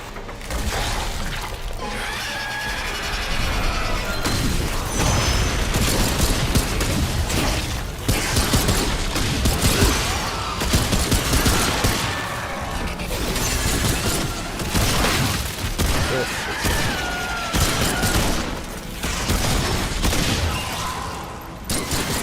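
NPC gunfire in Remnant 2 keeps going as a dense, loud barrage of shots and blasts mixed with shattering and crashing impacts, continuous across the whole stretch.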